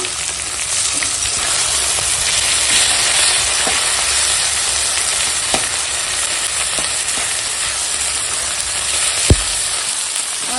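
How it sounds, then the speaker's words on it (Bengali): Ginger-garlic paste masala with tomato frying in a pan, a loud steady sizzle throughout with occasional soft clicks of stirring. "মশলাটা ভালো করে কষিয়ে নেব"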